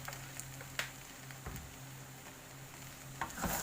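Fried rice with nham sizzling in a pan as seasoning sauce and fish sauce are added: a steady soft frying hiss, broken by a few sharp clicks and taps of a utensil against the pan.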